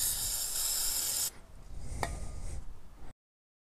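Brake cleaner sprayed onto the front brake parts of a Yamaha V Star motorcycle. A close, loud, continuous aerosol hiss lasts just over a second, then softer rustling handling noises follow before it goes quiet.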